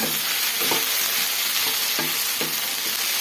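Tamarind and onion fry hard in a pan for onion chutney, a loud steady sizzle with the scrape of a spoon stirring through it every half second or so, no voices.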